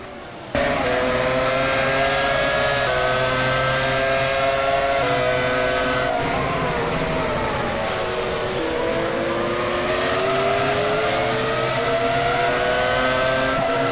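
Touring race cars at the Bahrain circuit running side by side on the straight, their engines blaring loudly and steadily together, with rising and shifting pitches through gear changes and a brief dip midway, and no talk.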